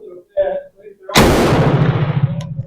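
A single loud shot from a Bren MK2/MK3 machine gun cracks out a second in, followed by a long decaying rumble, after brief mechanical clicks and a few murmured words.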